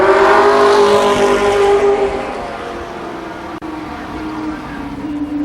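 Stock cars racing at Columbus Motor Speedway roar past loudly, engine pitch sliding downward as they pass, then settling into a steadier drone as the pack runs down the backstretch.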